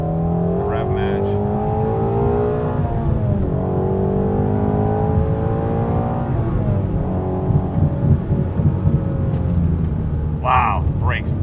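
Ford Mustang engine droning and revving through a downshift with rev matching, loud and close inside the cabin, pitch sweeping down then up, with a driver speaking over it.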